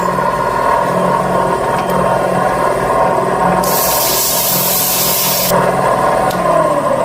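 A stone wheel grinds on a cylinder head from a Vortec V8 during crack repair, a steady loud motorized whir with a harsh high-pitched rasp that rises in the middle as the stone bites under load.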